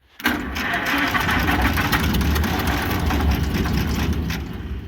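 Old, long-forgotten antique combine engine cranking and catching, a sudden loud start settling into a rough, rattling, knocking run, close and continuous.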